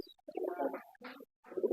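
Pigeons cooing inside a pigeon house, three close throaty bursts of cooing separated by short silences, with no other noise around them.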